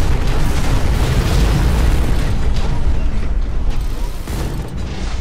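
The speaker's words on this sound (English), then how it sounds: "This is an odd sound glitch." A persistent loud mechanical grinding and rumbling glitch in the Hawken mech combat game, heard after a patch, with rattling, creaking bursts running steadily throughout and no talking.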